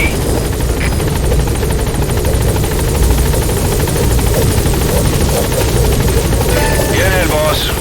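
A support helicopter in Metal Gear Solid 5 roars steadily and loudly throughout, its thick rotor drone filling the scene while voices speak over it and a few brief electronic chirps sound near the end.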